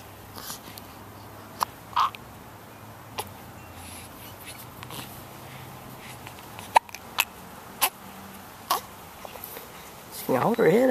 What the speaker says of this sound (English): 6 weeks old today and got the hiccups at the moment.